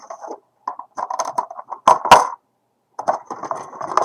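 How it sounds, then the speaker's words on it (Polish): The paper tray of a Brother DCP-J105 inkjet printer being pulled out: a series of close plastic clicks, rattles and a sharp snap, with a brief pause before more handling clatter. "Wyciągnę sobie podajnik papieru z"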